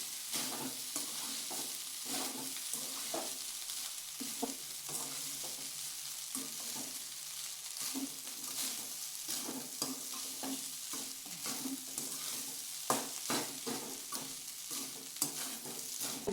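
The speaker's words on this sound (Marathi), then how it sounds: "ते सगळं मस्तपैकी हलवून घ्यायचं." Leftover rice with a little salt being stirred in a pan, a steady run of scraping spatula strokes over a soft continuous sizzle, close and moderately loud, with no talking.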